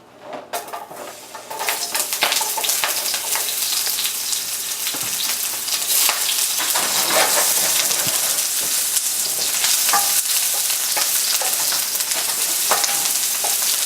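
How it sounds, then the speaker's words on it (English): White parts of green onions sizzle loudly in a hot pan with bell pepper, chicken and udon, a steady dense frying hiss broken by occasional clinks of a utensil against the pan. "We're going to now add the white part of the green onions."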